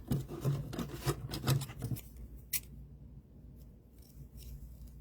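Scissors snipping along a doll's hair, a quick run of close crisp cuts in the first two seconds, then a single sharper snip and quiet rustling.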